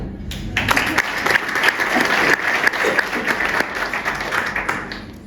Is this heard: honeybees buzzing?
no